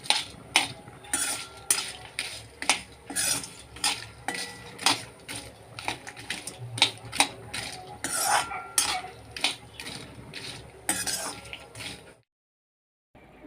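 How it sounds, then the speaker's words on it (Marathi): Cinnamon, cloves and black pepper roast in oil in a kadhai while a spatula stirs and scrapes, making close, rhythmic metallic clinks over a low sizzle before stopping abruptly into silence. "इथे आता दालचिनी, लवंग आणि मिरे पण भाजून झालेले आहे"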